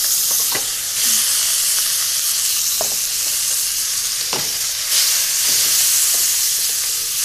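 Squid and other seafood are stir-fried over a very hot gas flame, with a loud, steady sizzle and hiss running throughout and occasional clinks and scrapes as the pan contents are moved.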